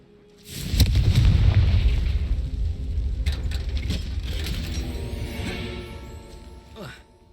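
The Confringo spell explodes in Hogwarts Legacy with a heavy, booming blast that rolls into a long rumbling decay. A voice is heard amid the blast.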